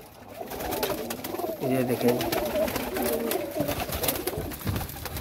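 Soft, low pigeon cooing rolls on beneath a person talking, with noisy, rustling background throughout.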